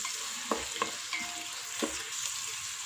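Crushed ginger and a whole head of crushed garlic sauté in a pan for chicken mandhi, giving a steady close sizzle broken by a few soft stirring scrapes.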